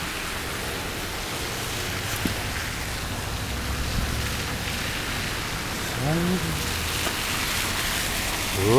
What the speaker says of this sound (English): Yeah, it's a rainy, cold day here.